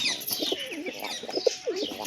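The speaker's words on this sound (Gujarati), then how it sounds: "આજની વિડીયોમાં આપણે કબૂતરના બચ્ચા જોવાના છે" Pigeons and their chicks in a home coop give soft, throaty coos and small squeaky chirps, several short calls close by against a faint background hiss.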